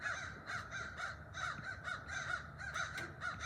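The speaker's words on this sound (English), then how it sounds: "these birds won't shut up" Crows cawing noisily outdoors, a rapid run of harsh, repeated caws overlapping one another at moderate distance, steady and insistent with no talk over them.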